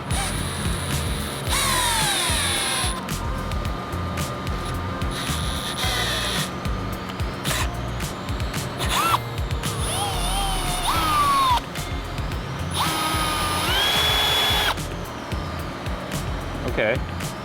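A power drill spins a riv nut into 3/16 inch thick aluminum in several whirring bursts with rising and falling pitch, close and loud, with someone talking between and over the runs.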